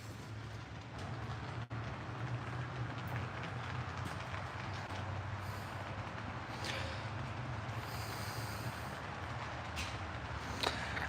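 A model train locomotive runs steadily along its track, a faint continuous rolling rumble with light clicks, no speech over it.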